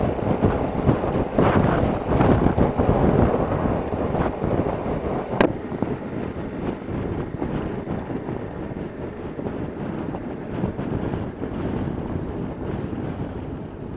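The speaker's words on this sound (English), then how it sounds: "Woo, boy, that wind." Strong, continuous wind roar buffets the microphone while riding a Suzuki V-Strom motorcycle on cold roads, loud and close throughout with gusty fluctuations and no speech.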